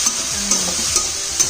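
Dal frying and being stirred in a pan gives a steady close sizzle with light scraping strokes and a few sharper clinks at regular intervals, with no talking.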